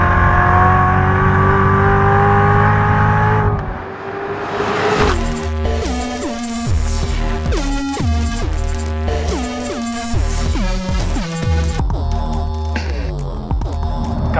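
A 2015 Chevrolet Corvette Z06 engine roars loudly and steadily, then drops away before a run of sharp, rising revs and gear changes surging one after another, close and without any talking.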